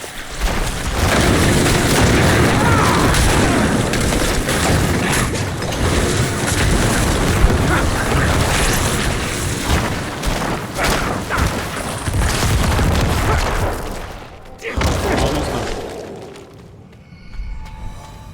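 Necromancer corpse explosions go off in Diablo 4, a dense, continuous barrage of booming detonations and crashes that holds steady, then thins out and fades near the end.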